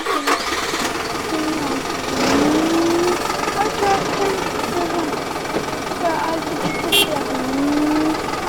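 A tractor engine runs steadily at idle, a low continuous rumble with a few rising tones, while children's voices chatter over it.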